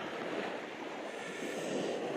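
Sea surf washing onto the shore at Yalta on an October morning, a steady broadband wash of breaking water close by with wind noise on the microphone, no voices.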